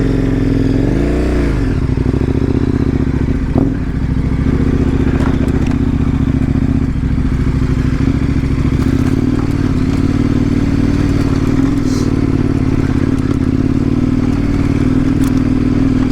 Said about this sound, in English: riding a dirt bike